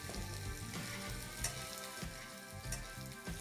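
Breaded veal cutlets frying in clarified butter for a Milanese-style dish, a steady close crackling sizzle with small pops and spatters throughout, no voices.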